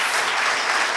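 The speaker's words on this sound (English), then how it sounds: "Can we have a little round of applause for these four beautiful string players?" Steady audience applause for four string players, a dense wash of clapping hands that stays even and fairly close throughout with no pauses.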